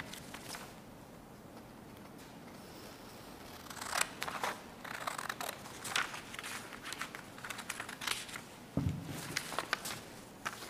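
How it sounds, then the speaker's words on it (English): Scissors snip repeatedly through paper, a run of crisp, close cuts with uneven spacing, no talking. "we will use our scissors to cut down the middle line"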